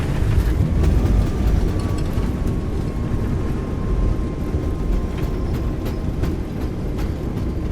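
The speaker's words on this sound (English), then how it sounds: "Okay, reverser's out." Airbus A320 thrust reversers roaring on landing in Microsoft Flight Simulator, a loud continuous low rumble of engine noise holding steady throughout with no speech.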